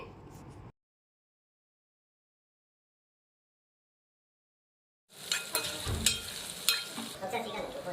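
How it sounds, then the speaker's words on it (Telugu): Chopped onion and green chilies hit hot oil in a pan: a brief sound at the start, then a long silence, and then a loud, busy sizzle with stirring and clinks of utensils against the pan. "ఇప్పుడు మనం కట్ చేసి పెట్టుకున్న ఆనియన్ను పచ్చిమిర్చి ఇందులో వేసుకొని అయితే ఫ్రై చేసుకోవాలి"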